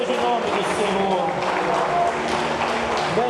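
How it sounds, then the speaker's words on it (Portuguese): A church congregation applauding together, steady dense clapping that fills the room for the full stretch, with voices mixed into the crowd noise. "Só quem crê dê um aplauso ao Messias, a Jesus de Cristo."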